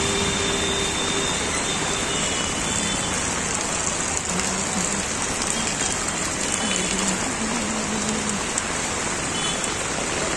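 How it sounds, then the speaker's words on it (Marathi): Heavy rain pours steadily in Virar, a dense unbroken hiss of drops on surfaces, loud and close for the whole stretch, with faint distant tones underneath and no voices. "पाऊस कंटिन्यू चालू आहे"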